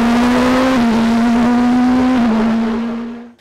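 Norma M20 FCE2 SC race car with a 1.7 litre turbo engine drones past at high revs in a hillclimb, a steady loud tone with brief gear-change dips before fading away at the end.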